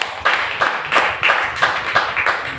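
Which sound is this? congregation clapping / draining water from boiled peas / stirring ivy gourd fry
congregation clapping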